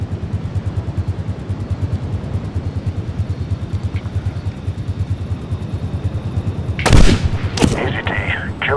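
A sniper rifle shot in Medal of Honor cracks sharply near the end as a loud single report, followed by a second blast and echoing tail over a low rhythmic engine or rotor drone.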